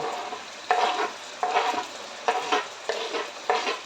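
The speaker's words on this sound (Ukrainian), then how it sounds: "курочка моя вже смажиться" Chicken sizzling and frying in a pan with onion and garlic, with rhythmic bursts of stirring scraping in regular pulses about every three-quarters of a second, close up.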